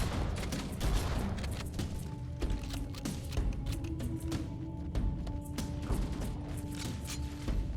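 Gunfire in the video game Halo: CE Anniversary as Covenant forces battle the Flood: dense, continuous bursts of weapon fire and thuds over a steady roar of battle, with no pauses.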